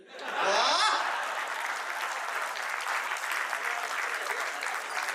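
Live audience at a Hindi comedy poetry show (hasya kavi sammelan) breaking into applause, a quick swell of clapping that settles into steady, moderately loud crowd clapping with a few faint chuckles mixed in.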